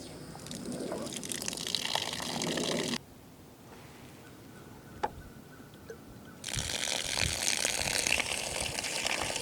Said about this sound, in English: So we got water coming out of our drain